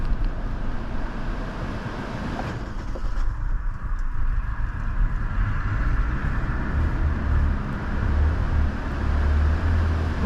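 A 2021 Kia Forte GT Line engine with a dirty engine at 40k miles idles as a low rumble, then rises into a stronger, heavier drone in the second half as it is revved.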